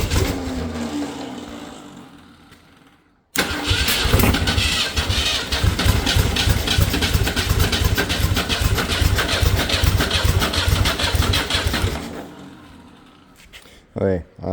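A seized Ford 300 inline six engine cranks and runs loudly for several seconds with a rough, rapid pulsing roar, then cuts off, with a voice briefly before and after.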